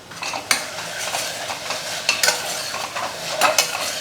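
Mint and coriander leaves sautéing in a pan for a vegetable salna, with a steady sizzle under repeated scraping and stirring strokes of a spoon against the pan, close and moderately loud throughout.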